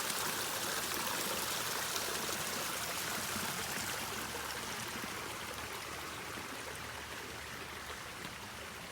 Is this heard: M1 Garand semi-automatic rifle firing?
no